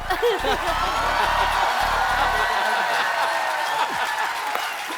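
The studio audience on The Kapil Sharma Show, a Hindi comedy show, breaks into loud, sustained applause with scattered whoops and laughter, while a voice talks briefly over the start.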